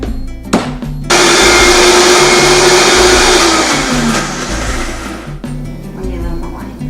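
A blender whirs loud and steady as it purées a salmon sauce made with wine and Parmesan cheese, starting abruptly after a brief pause and running for several seconds before cutting off, with faint room noise around it.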